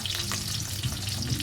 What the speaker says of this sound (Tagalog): Naprito natin siya ulit.